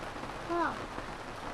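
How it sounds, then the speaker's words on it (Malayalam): Steady rain hisses across the whole clip, with a short voiced sound rising briefly over it partway through. "വരട്ടെ, അല്ല മഴ തന്നെ."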